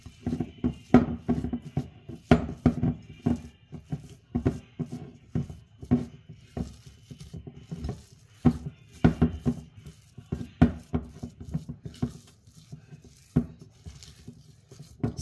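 Keto biscuit batter being stirred by hand in a bowl, a close, steady run of soft patting and scraping strokes with irregular rhythm and no talking.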